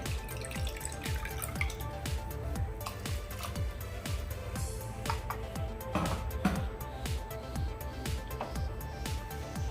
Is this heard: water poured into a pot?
yes